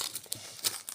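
Crinkly, crackling rustles of adhesive tape being handled and pressed onto parchment paper, several short bursts close by with no talking.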